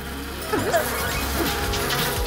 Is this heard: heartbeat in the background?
no